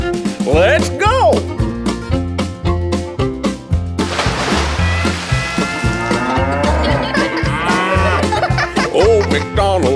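A cow moos in an animated children's Old MacDonald farm song, the low drawn-out calls set among bouncy steady instrumental music and sung vocals throughout.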